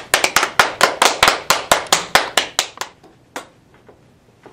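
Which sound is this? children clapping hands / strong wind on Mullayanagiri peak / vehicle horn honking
children clapping hands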